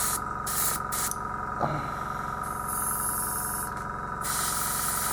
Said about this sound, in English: Ah, now it sprays brown.